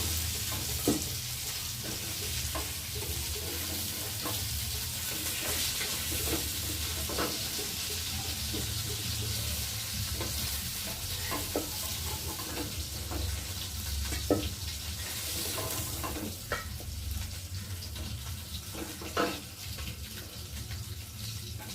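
Fish pieces fry in hot oil to a crisp red, a steady sizzle punctuated by scattered clicks and light scrapes of turning and lifting, faint and unbroken.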